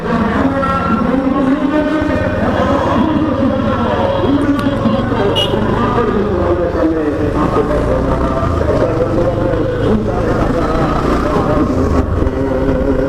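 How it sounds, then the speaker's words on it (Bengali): Dense road traffic jam heard from the back of a moving motorbike in Matuail, a constant loud rumble of engines and horns throughout, with voices talking underneath. "শুক্রবার আজকে এই জন্য অনেক জ্যাম রাস্তায়"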